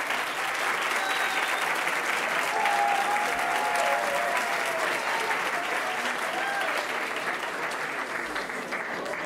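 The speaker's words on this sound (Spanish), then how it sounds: "Un aplauso para esta promoción." A graduation ceremony audience applauds steadily for the newly graduated class, a dense, sustained clapping that stays loud from start to finish, with faint voices mixed into the crowd.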